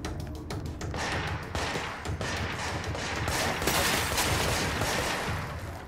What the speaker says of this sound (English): Where are these shots coming from?